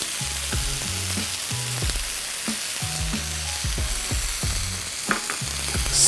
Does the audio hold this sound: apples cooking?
yes